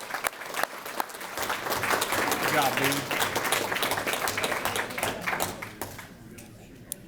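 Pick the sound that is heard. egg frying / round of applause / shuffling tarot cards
round of applause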